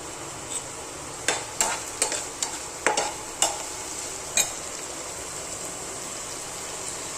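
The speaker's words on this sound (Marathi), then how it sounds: "हा कांदा आहे ना एकदम ब्राऊन कलर होईपर्यंत भाजायचा आहे" Onion frying in a pan for paneer bhurji, a steady low sizzle broken by a quick run of spatula clicks and scrapes partway through, then settling back to quiet frying.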